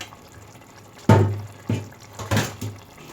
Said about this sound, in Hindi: अब हम इसमें राइस डाल रहे हैं।